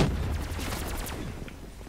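Upgraded ammunition fires in Call of Duty Black Ops 3 zombies on The Giant map. Dense, loud bursts of automatic gunfire crackle in quick succession, then fade toward the end.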